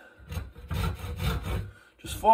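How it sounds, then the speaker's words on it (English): A handsaw cuts into the wooden slot of an axe handle, giving several quick rasping back-and-forth strokes, close and fairly loud, ending in a brief scrape. "So we'll just use this against my handsaw. We're just going to open that up a little bit."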